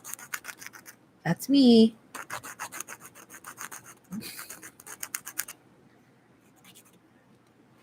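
Fingernails being filed with a nail file, a soft dry rasping of short repeated strokes at close range, occurring in bursts alongside a few brief spoken words and fading to near silence at the end.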